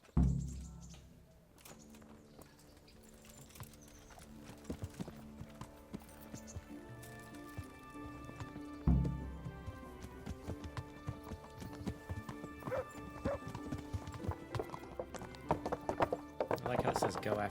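Horse hooves clip-clop in the medieval video game Kingdom Come: Deliverance, a steady rhythmic trot running throughout beneath a game music bed, with a couple of louder thumps and faint bird chirps mixed in.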